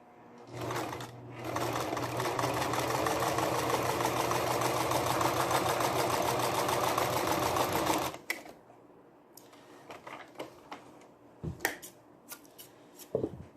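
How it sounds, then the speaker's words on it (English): A sewing machine runs steadily for about seven seconds, stitching a zigzag along raw fabric edges, then stops; a few soft clicks and handling noises follow. "I used my zigzag stitch to seal off my raw edges and protect it from fraying"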